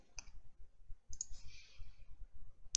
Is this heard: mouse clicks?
yes